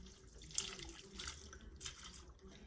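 Water with dissolved Knorr chicken bouillon poured over chicken in a crockpot, a close, steady liquid splashing and trickling that swells and fades over a few seconds with no talk.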